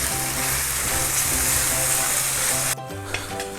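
Masala mix for Kerala egg roast fries in hot oil with a loud, dense, continuous sizzle while being stirred; the hiss drops sharply in level near the end.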